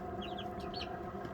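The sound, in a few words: Brahma roosters and chickens clucking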